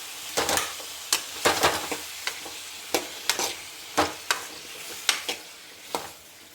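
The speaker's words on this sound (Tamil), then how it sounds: "நல்லா கிளறி விடணும்." Vegetables are stirred in a frying pan, giving sharp scrapes and clanks at irregular intervals over a low sizzle. The sound is close and clear, with no talking.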